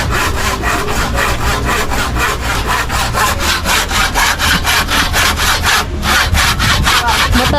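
A new, sharp hand saw cuts through wood in steady, rapid back-and-forth strokes, loud and close, continuing without pause.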